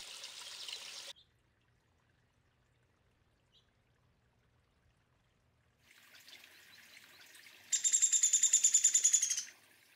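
Finches, including American goldfinches and house finches, chirp and sing in short bursts: a brief call at the start, then after a quiet gap a run of high, rapid repeated notes, near and clear, with no talking.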